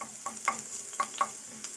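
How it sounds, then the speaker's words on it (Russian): A wooden spoon stirring food in a non-stick frying pan, with a few light scraping taps spaced irregularly over a soft, steady sizzle, heard close with no talking. "И вот такая ложечка у меня есть из дерева. Я вот ей буду помешивать."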